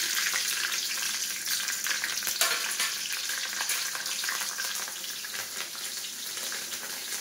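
Whole dried chili frying in hot oil with cinnamon and cardamom for a chicken curry, a steady close sizzle with occasional stirring, slightly easing toward the end and with no talking.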